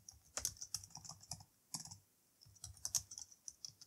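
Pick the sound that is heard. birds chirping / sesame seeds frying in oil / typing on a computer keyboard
typing on a computer keyboard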